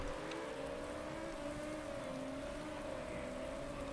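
Steady rain hisses during a wet race in Motorsport Manager, with droning race-car engines gliding in pitch underneath at a constant, fairly quiet level.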